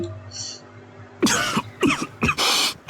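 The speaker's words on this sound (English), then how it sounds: "Levon choked on his tea and started coughing." A man coughs in a quick series of harsh, rough bursts after choking on tea, close and loud, following a quieter stretch of background music.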